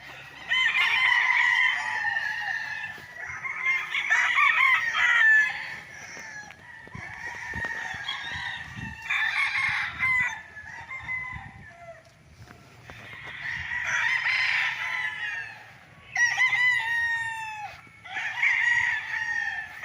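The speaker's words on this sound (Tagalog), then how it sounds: "Ganda ng mga manok, oh." Several roosters crow repeatedly, loud and nearby, with hens clucking in between and a busy farmyard murmur underneath, on a farm lot in Pagsanjan, Laguna.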